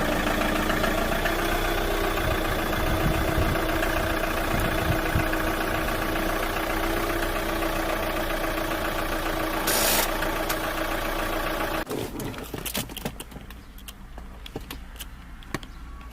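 A parked manual car's engine idling in neutral gives a steady, close hum with a continuous drone for most of the stretch, then it drops away near the end to quieter clicks and rustling.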